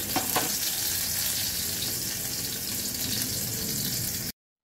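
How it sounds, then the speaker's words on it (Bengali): Loud, continuous sizzling of bitter gourd frying in hot oil, a dense crackling hiss with a couple of sharp pops near the start, then it cuts off. "এবারে করলাটা লাল করে ভাজবো।"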